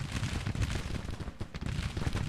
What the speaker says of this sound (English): No, he's firing. He's shooting at somebody.